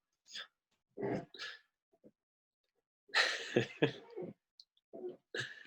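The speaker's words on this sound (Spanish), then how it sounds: "tengo una carraspera aquí" Someone clears their throat repeatedly in short, raspy bursts, close by, with a longer rough rumble in the middle and quiet gaps between.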